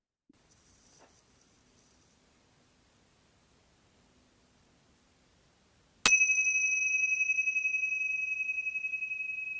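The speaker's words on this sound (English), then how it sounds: "We'll start and end our practice with a bell." A meditation bell is struck once after a few faint rustles and near-silence, ringing clear and loud before fading slowly with a pulsing shimmer.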